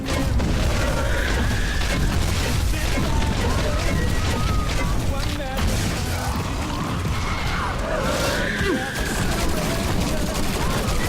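Automatic grenade launcher in the video game Shadow Warrior 2 fires in a dense, continuous barrage of booms and blasts, loud and busy throughout, with mechanical clatter mixed in.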